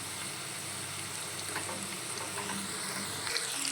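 Chicken pakodi pieces deep-fry in hot oil, a continuous dense crackling sizzle, close and fairly loud, with no voices over it.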